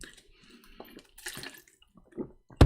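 Water pours and splashes in a few irregular bursts, close and moderately loud, ending in a sharper splash.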